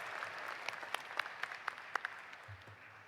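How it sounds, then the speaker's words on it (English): An audience at a college commencement applauds the Tougaloo College Concert Choir, a soft, distant wash of clapping with a few sharper individual claps standing out, tapering near the end. "give Professor Twiner and the Tougaloo College Concert Choir another round of applause for that stellar performance"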